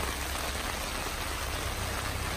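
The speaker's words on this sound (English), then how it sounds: "It's raining." Steady rain at Jamaica Bay, New York, patters on a surface nearby, a continuous even hiss with no voices.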